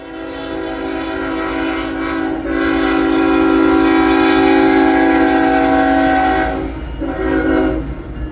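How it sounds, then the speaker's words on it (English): An empty BNSF grain train rolls past on the Birmingham Subdivision in Adamsville, Alabama. Loud, sustained horn blasts ring out over a steady rumble of wheels and cars, dipping briefly before the horn sounds again. "an empty BNSF Earthworm grain train comes out of nowhere"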